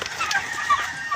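Backyard chickens cluck and chatter close by as they are given feed, in a short, busy burst of overlapping calls.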